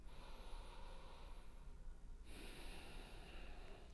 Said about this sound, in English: in this posture, we want you to try and take a nice deep breath in